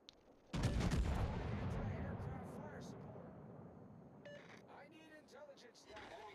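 Heavy battleship main guns fire in World of Warships, a loud close boom followed by a long rumbling decay, then several quieter distant blasts and a voice speaking under the tail.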